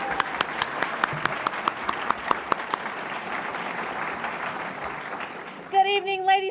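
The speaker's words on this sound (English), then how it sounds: "this is where everybody's supposed to clap because it's the start of the show" An audience applauds at the start of the 2013 Golden Apple teacher recognition gala, with a few distinct near claps over a sustained crowd clapping that fades away, then a voice begins speaking.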